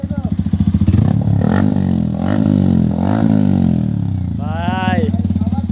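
A Yamaha R15 V3 motorcycle fitted with an Akrapovic exhaust idles loudly up close, then revs several times in rising and falling surges, with someone talking over the engine.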